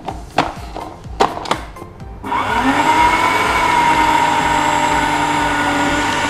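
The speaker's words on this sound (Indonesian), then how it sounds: "Sekarang saya giling sedikit lagi" A food grinder runs continuously, grinding a gluten-free dough mixture, loud and steady after a few sharp clatters and knocks at the start.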